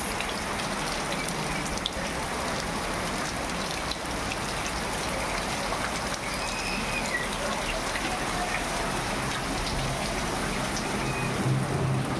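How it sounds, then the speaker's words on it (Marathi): Steady rain falls and patters on surfaces, a constant even hiss with no pauses and no voices. "पाहिलं का पाऊस, किती पाऊस आलेला आहे आज."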